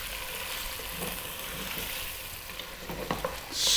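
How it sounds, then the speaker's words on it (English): Beef stew ingredients frying in a pot with constant stirring, a quiet continuous sizzle broken by light spoon scrapes, close and without talk. "and we're gonna be stirring constantly."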